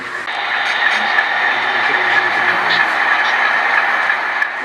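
Model train running steadily on the Reading Lines HO layout, a continuous even rumble and whir heading into the city and main yard, heard alone without talk.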